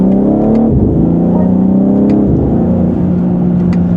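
A 2025 BMW M3 Competition engine revs up loud and close, dips briefly at a gear change, then climbs steadily in second gear.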